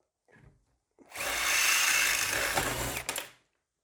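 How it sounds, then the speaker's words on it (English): A cordless drill whirs loudly for about two seconds, grinding through a metal rivet on a portable table stay, after a brief faint rustle; it stops with a couple of short bursts. "in your battery drill, and drill out the old rivet"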